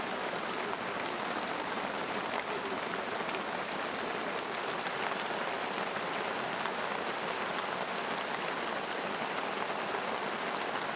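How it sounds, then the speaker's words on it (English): A dense, steady roar of heavy rain pouring down on a palm forest in Bolivia without pause, loud and close, with no voices. "a downpour unexpectedly occurs"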